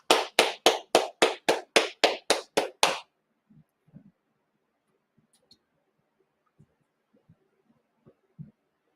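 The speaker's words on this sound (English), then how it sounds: "we're going to clap it up" Audience at a Sabbath service clapping hands in a fast, steady, loud rhythm of about a dozen sharp claps, stopping abruptly, followed by faint scattered thumps and soft room noise.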